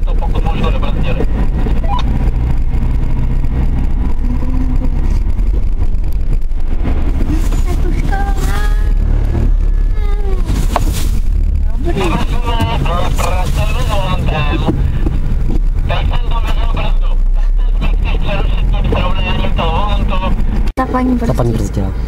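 A Subaru braking through a wall of water at a skid-driving school in Jihlava, heard as a loud, continuous roar of engine, wind and spraying water, with voices talking over it.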